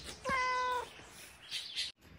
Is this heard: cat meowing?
yes